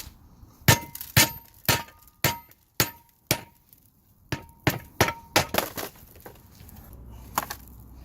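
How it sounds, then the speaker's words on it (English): Sharp metallic hammer blows on a BMW E36 subframe mount ring out one after another in an uneven rhythm, each with a bright clanging tone and quick decay, close and loud. "Let's see if we can get it going with the hammer."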